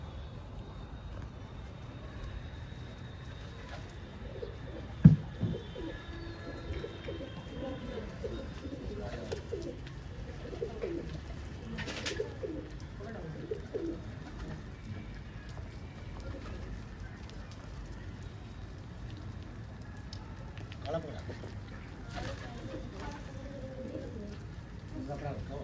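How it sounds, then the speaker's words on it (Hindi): Patiala pigeons cooing softly and steadily in a loft, low murmuring calls running throughout with background movement and occasional talk nearby. "एक से एक प्यारा कबूतर है, इसके अंदर सारे ही पटियाले हैं।"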